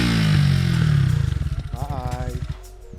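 A Honda CBR 125R motorcycle engine runs close by, a loud low drone that breaks into rapid pulsing beats and settles back down.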